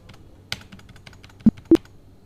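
Computer keyboard in an office during payroll data entry: a few soft key taps followed by two distinct, sharper presses of the Enter key close to the microphone, no speech.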